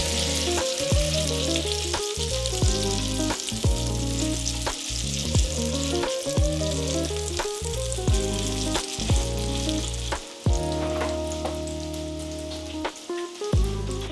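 Jalapeno cornmeal hoe cakes fry in a hot cast iron skillet, giving a steady, loud sizzle and crackle throughout with occasional sharper pops and spatters, no voices.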